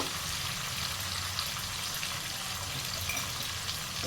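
Dried fish frying in a hot pan on a high gas flame with a pinch of salt and turmeric, giving a steady, close sizzle that holds evenly throughout with no voices.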